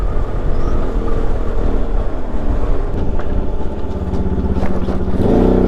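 A motorcycle needing repair rolls over a speed breaker on the road, a loud continuous engine drone mixed with heavy wind rumble, the engine note shifting slightly near the end.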